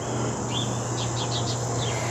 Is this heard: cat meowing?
no